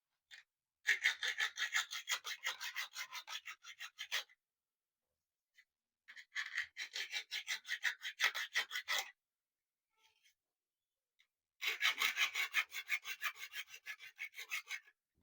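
Cutting open the swollen casing of a Mi power bank, three long bursts of rapid rasping back-and-forth scraping, close and fairly quiet, separated by short silences.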